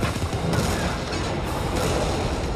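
Cannon fire in Jedi: Fallen Order, dense booming blasts and crashing impacts packed together in a loud, continuous barrage.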